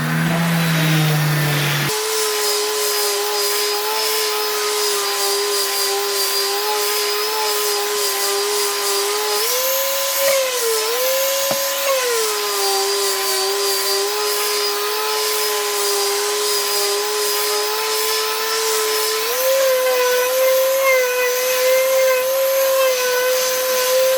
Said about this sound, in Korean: 이번에는 400방으로 한번 살짝 마르기 시작하면 색깔이 더 하얘지죠. 이럴 때 샌딩을 하시면